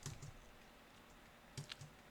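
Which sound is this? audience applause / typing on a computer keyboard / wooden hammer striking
typing on a computer keyboard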